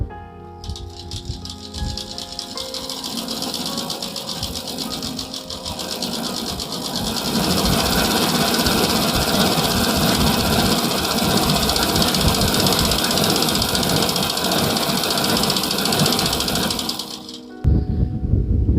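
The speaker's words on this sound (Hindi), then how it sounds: "अब देखिए यहाँ पर ये हाई स्पीड की कॉल भी वाइंडिंग हो गई।" A high-speed fan coil winding machine whirs and rattles steadily for most of the span, growing louder partway through before stopping abruptly near the end; no one speaks.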